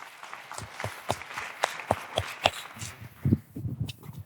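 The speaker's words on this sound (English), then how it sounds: "one more round of applause for Arjun" Crisp, evenly spaced claps ring out at a crypto conference, a sparse handful of close hand claps in a steady rhythm before they fade into a low murmur of voices.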